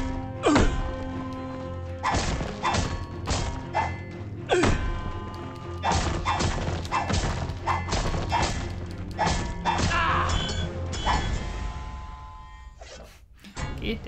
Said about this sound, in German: der Sound kam irgendwie doppelt mit den Dolchen